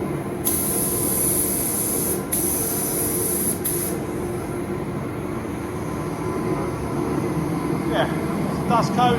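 Spray gun laying a light dust coat of lacquer over purple paint on an XL bike build, a steady continuous hiss that runs almost unbroken from start to finish, with a couple of short pauses early on.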